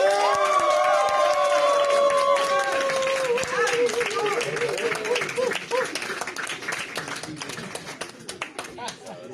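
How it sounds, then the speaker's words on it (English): An audience applauds and cheers as performers come on stage at a comedy show, with loud clapping and whoops. Shouting voices are mixed in, and the clapping thins out toward the end. "let's give them a huge round of applause as they come in"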